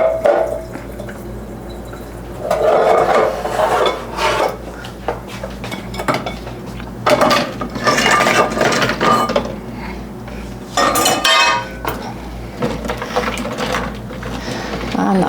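Pots and dishes clatter and clank in a kitchen sink while boiled eggs are drained, with bursts of running water and metallic knocks coming in loud, uneven bunches, alone without talk.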